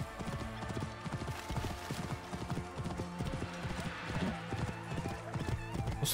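A galloping horse in Assassin's Creed Origins, hooves striking in a quick, even rhythm throughout, close and clear over a layer of game music, with a hint of a whinny.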